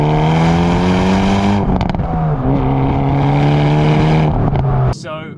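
2022 Hyundai i30N manual hot hatch accelerating hard from standstill, engine note climbing loud and close through rising revs with brief dips at gear changes, then easing off.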